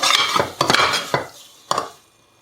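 A spoon clinks and scrapes against a pot while curd is mixed into prawn biryani masala: four quick, close metallic knocks with short stirring rasps between them, no talking.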